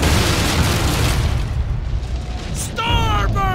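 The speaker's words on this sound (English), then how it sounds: "Cannons! Brace yourselves!" Heavy cannon fire in the pirate naval game Assassin's Creed 4 Black Flag, rolling booms under a dense orchestral score, with a brief voice near the end.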